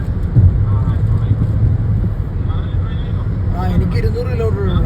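A truck rumbles past close by with steady, loud low-frequency engine and road noise plus wind buffeting, while people talk over it.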